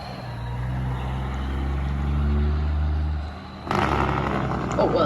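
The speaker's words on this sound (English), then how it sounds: "Nice jake brake." A Kenworth truck engine brake gives a loud, droning rumble for a few seconds before it gives way to a burst of broader road and engine noise.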